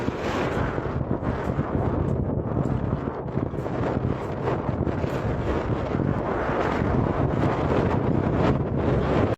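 Strong wind blowing steadily across open countryside during a wildfire outbreak, a loud continuous roar buffeting the microphone with rumbling gusts throughout and no voices.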